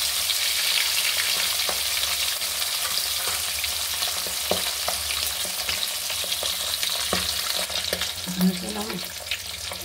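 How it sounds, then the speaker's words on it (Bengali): Hilsa fish pieces frying in hot oil in a home kitchen, with a steady bright sizzle and occasional clinks and stirring scrapes throughout. "এই মাছ দুটো ভাজা হয়ে গেছে"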